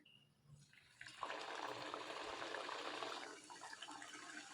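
Onion kachori dropped into hot oil, starting quiet and then swelling into a steady, close, bubbling hiss of frying that stays loud for a couple of seconds before easing slightly, with no talking.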